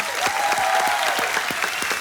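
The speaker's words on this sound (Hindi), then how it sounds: "तालियां बज जाए।" Studio audience applause at a television quiz show, a steady dense clapping from a crowd held at an even level throughout.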